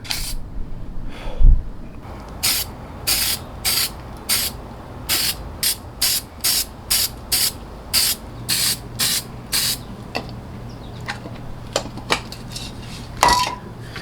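A spray can lays a coat of paint on a Jeep JKU stubby bumper in a long series of short, sharp hissing bursts, fairly regular and close, with light clinks and shuffling between them.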